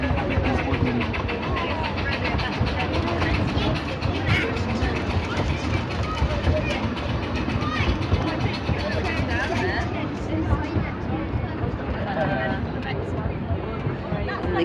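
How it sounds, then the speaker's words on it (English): Ghost train ride at Exbury rolling steadily along its rails, a continuous near rumble and clatter with people chattering over it throughout. "The ghost train."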